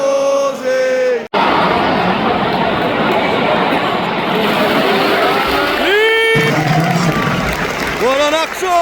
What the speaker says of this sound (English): I know the United fans are applauding him as well.